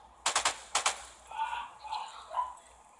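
Gunfire in a video game match: two quick bursts of sharp shots early on, followed by quieter talk.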